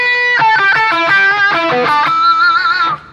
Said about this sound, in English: So this is the fat distortion.